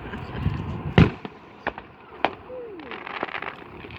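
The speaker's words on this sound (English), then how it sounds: "Green fireworks." Several sharp firework bangs go off at a Fourth of July backyard gathering, one strong near burst followed by smaller scattered cracks over a low outdoor rumble, with a brief whistling tone partway through.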